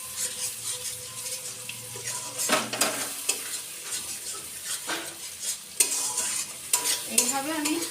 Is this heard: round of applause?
no